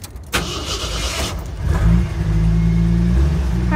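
A car engine at a dealership cranks and catches, then revs loudly and steadily at close range, its rumble holding strong after the start.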